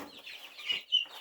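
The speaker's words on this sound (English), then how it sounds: "So we've got our turkeys in here and our younger chicks, and they're doing so good." Young turkeys and chicks in an indoor brooding room give a brief burst of soft, close peeping and chirping calls.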